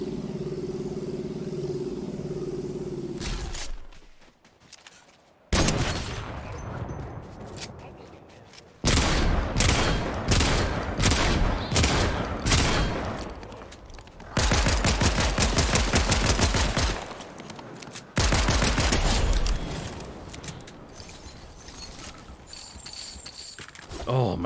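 Gunfire in the video game Fortnite, including sniper shots, comes in loud dense bursts separated by short gaps, with a voice talking through parts of it.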